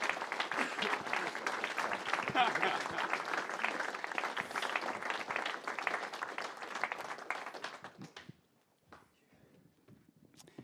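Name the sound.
audience applause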